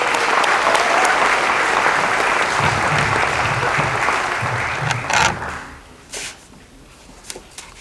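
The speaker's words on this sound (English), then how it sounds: "One more round of applause" Audience applause at an alternative school graduation ceremony, a loud sustained wave of clapping that fades out over the last seconds, leaving a few scattered claps.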